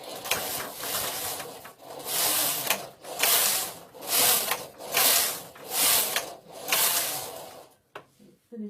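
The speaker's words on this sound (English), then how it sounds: "So I'm just going to knit a few rows and end up with the carriage on the left hand side." The carriage of a Passap Duomatic 80 knitting machine is pushed back and forth across the needle bed, making six or seven rhythmic rasping sweeps close up, each a second or so long, followed by a few light clicks.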